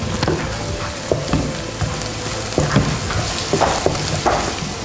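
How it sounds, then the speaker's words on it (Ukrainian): Food frying in a pan while being stirred, a loud continuous sizzle with repeated scraping and clinking of the spoon against the pan, close up. "Це все перемішуємо."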